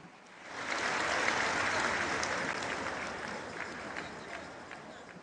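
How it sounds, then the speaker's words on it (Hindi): Loud, sustained applause from a large crowd of women at a Lakhpati Didi program in Navsari, Gujarat, rising quickly and holding steady before easing slightly, with faint voices mixed in. "एक बार जोरदार तालियां होनी चाहिए"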